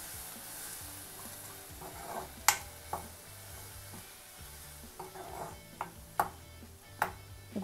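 A spoon stirs fish curry in a pan, soft scraping strokes and a few sharp clinks against the metal, spread irregularly over a low simmering background.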